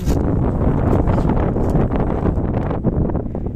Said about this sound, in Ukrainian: Бачите, який вітер вітрюганіще.